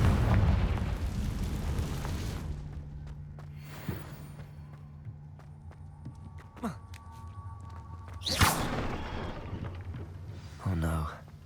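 A Confringo blasting spell in Hogwarts Legacy erupts in a loud, booming burst at the start, followed by several shorter pops and thuds of spell impacts amid rumbling game ambience.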